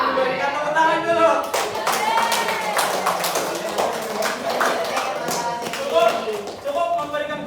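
Students in a classroom clap their hands in a lively burst of uneven claps, some near and sharp, while voices chatter over them.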